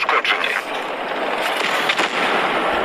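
A tank explodes in a tank battle video game, with loud, dense, continuous booming blasts and rumbling gunfire throughout.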